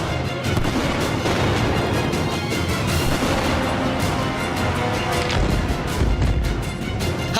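Israeli airstrikes on Gaza produce dense, rumbling blasts and crackling booms that overlap almost continuously, loud and chaotic with no clear pauses.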